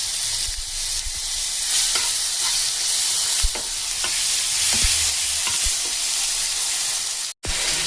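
Tomatoes frying in a pan until soft, a continuous bright sizzle punctuated by sharp spatula taps and scrapes against the pan, close and alone.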